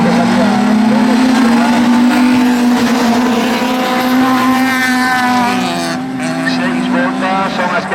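An autocross race car in a 1600-class semi-final roars past at high speed, its engine a loud sustained whine that holds steady and then dips slightly near the end, close and dominant.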